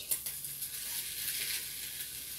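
Bacon-wrapped chicken sizzles and spits steadily on a hot waffle maker as it is flipped, a close, continuous frying hiss with no talking.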